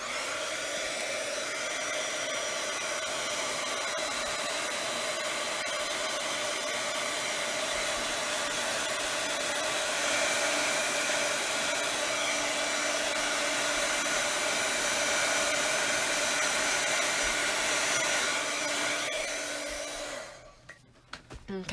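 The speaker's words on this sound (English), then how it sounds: "I'm going to dry this with my heat gun" A heat gun drying a poinsettia craft gives a steady, close, airy whoosh with a motor hum that holds evenly for about twenty seconds before cutting off abruptly.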